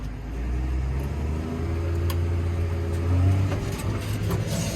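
A tractor pulling a big Western D12 muck spreader on a farm holds a loud, steady low engine rumble that swells briefly as the revs come up, with no talking.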